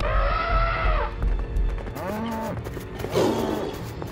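A cartoon cow gives several drawn-out moos, loud and close, with swooping pitch, one after another and then a final rough bellow, backed by busy animated-scene noise.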